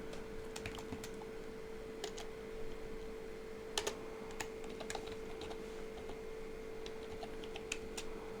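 Keys clatter on a computer keyboard as 'thank you' is typed, a steady run of light clicks with a few louder taps, close and alone over a faint hum.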